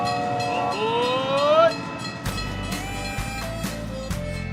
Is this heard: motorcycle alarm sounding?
no